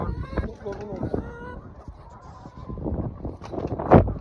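Chickens cluck and squawk nearby in short bursts, mixed with other bird calls and some background voices.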